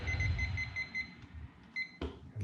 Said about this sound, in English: And we're going to set our timer